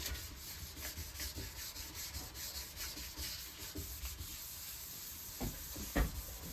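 Hand sanding painted surface with 600-grit sandpaper using the flat of the hand, a soft continuous scratchy rubbing in quick back-and-forth strokes, close and fairly quiet, with a couple of slightly louder scuffs near the end.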